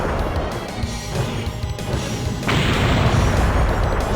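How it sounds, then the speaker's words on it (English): Frost Dragon shattering an icy bridge in the game Brave Fencer Musashi: continuous crashing and rumbling debris that grows heavier and louder partway through, with no talk. "Frost Dragon is shattering this bridge very quickly"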